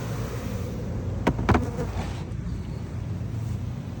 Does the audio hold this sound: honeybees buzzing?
yes